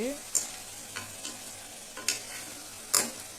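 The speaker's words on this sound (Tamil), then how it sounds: "மஞ்சள் போட்டு நல்லா வதக்கியாச்சு" Chicken sautéing with turmeric in a pan for chicken curry, a low continuous sizzle with a few sharp metallic scrapes and taps of a stirring spoon, close and without speech.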